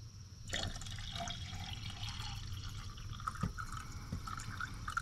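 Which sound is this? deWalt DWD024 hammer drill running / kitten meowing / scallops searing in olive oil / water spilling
water spilling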